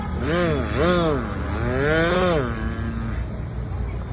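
A child vocally imitates a tree-cutting chainsaw, producing a sustained, wavering buzzing drone that rises and falls in pitch for about three seconds, close and loud, with no other talk.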